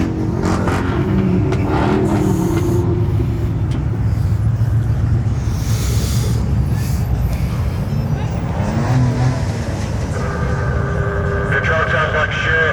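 A pickup truck engine revs loudly and continuously in the background, with a deep rumble that rises and falls under overlapping voices and outdoor crowd noise.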